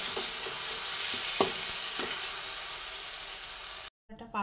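Ginger frying in a pan, a loud continuous sizzle with regular scraping strokes of stirring, close up, ending abruptly in a brief silence before a short burst of sound.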